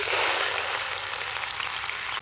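Steady, dense sizzling of dried red chillies, bay leaves, whole cumin and chopped onion frying in hot oil in a kadai, close and continuous with no voices.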